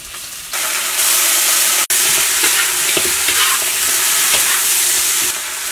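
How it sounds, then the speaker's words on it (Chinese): Blanched chicken pieces tipped into hot oil with scallion, ginger, garlic, Sichuan peppercorns, star anise and dried chilies in a wok, a loud sizzle surging up at once and then steady hissing with spatula scrapes and clinks, no talk. "炒出香味儿以后，倒入焯好水的鸡肉"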